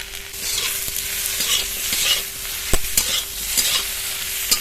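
Raw green tomatoes fry and get stirred in a pan with turmeric and salt, a steady close sizzle broken by spatula scrapes and taps, no voices.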